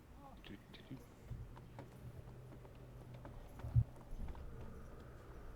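Horse hooves clip-clopping as a sound effect played during a Curse of Strahd tabletop session, faint and steady in rhythm, with voices murmuring underneath.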